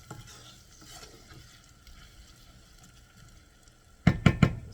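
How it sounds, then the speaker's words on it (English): Food sautes in a pan for chicken paprikash, a faint steady sizzle that gives way near the end to a few loud, close stirring scrapes and clanks. "Once it starts sizzling nicely, you can turn it down a little bit to like medium, because you always want to saute slowly."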